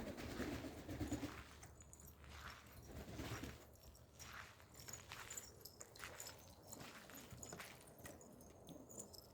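Homing pigeons, some recently bathed, coo softly and repeatedly inside a loft, with low murmuring calls layered over rustling, shuffling movement and a steady background hum.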